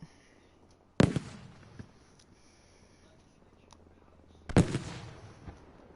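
Gunfire exchange in a competitive video game match: two sharp, loud bursts about three and a half seconds apart, each trailing off into a short decay, with fainter clicks and pops between them.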